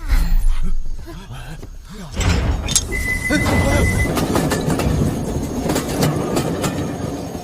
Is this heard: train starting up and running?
yes